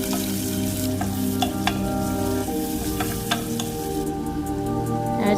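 Onions frying in a cup of oil with spices for an Indian tomato salan, a steady close sizzle with occasional stirring clicks and scrapes of a spoon in the pan throughout.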